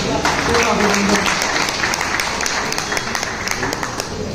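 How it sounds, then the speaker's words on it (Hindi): Applause at a Madhya Pradesh Vaishya community conference honouring women for their service, with a crowd clapping steadily and loudly at first, then thinning into scattered claps as voices murmur underneath. "मैं चाहता हूँ एक बार सब ताली बजा कर पूरा अभिनंदन।"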